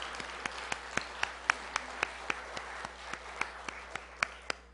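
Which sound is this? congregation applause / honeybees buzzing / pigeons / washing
congregation applause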